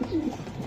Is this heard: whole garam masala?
no